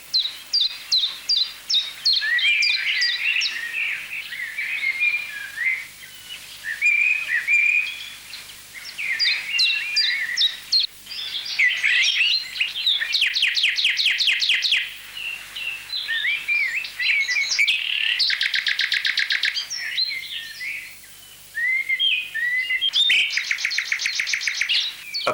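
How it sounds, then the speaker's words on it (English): A nightingale and a blackbird sing in competition on Vitosha mountain, with varied fluted phrases, rapid trills and repeated chirping notes in close, overlapping bursts that continue without a break. "A prominent singer, the nightingale, is competing with another one, the blackbird."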